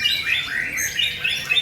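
White-rumped shama singing at a bird contest, a run of bright, rapid whistled and chirping notes sounding close and clear over faint crowd ambience.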